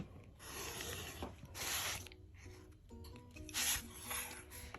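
A cutter trims through quilt fabric in a few close, rasping bursts of rubbing and scraping, separated by quieter handling noises.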